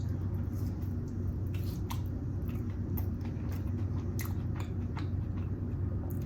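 Close-up chewing and biting of fries and Korean barbecue chicken wings, with soft crunches and wet squishy mouth sounds repeating in an irregular rhythm over a steady low background hum.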